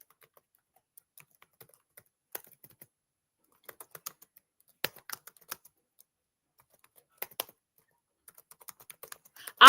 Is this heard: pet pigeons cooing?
no